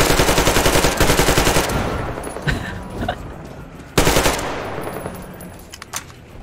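Loud automatic weapon fire in Metro Exodus aimed at a swarm of bats: a sustained rattling burst, a pause with a few scattered sounds, then a second sharp burst that quickly trails off.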